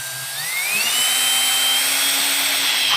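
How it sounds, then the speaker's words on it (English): A power drill boring a 1.25-inch hole into a plastic tub, a steady high whine that rises slightly in pitch and holds loud and close for several seconds, with no talking. "So that's where I'm gonna drill my hole."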